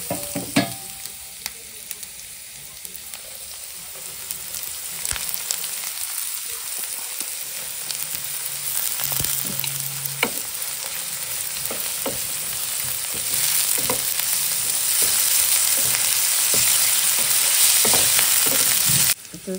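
Dal sizzles steadily in a frying pan while a spoon stirs it, with scraping clicks over the continuous crackling fry, growing a little louder toward the end.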